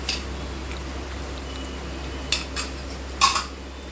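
Masala is stirred into a mutton fry with a metal utensil against a pan, producing a few sharp clinks and scrapes over a faint low hum.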